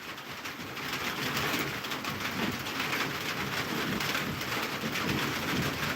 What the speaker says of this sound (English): Yeah, it's actually raining.